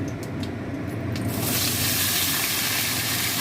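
Steady, loud broadband hiss of boiled young jackfruit frying in a pan, intensifying after the first second and holding constant to the end, with no voices.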